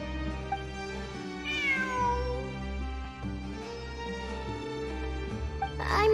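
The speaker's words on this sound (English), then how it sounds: "It really is a cat." A cat meows in the video game Genshin Impact during a ruins exploration event, a rising, wavering call that rings out clearly over a steady musical score, followed later by another brief cry.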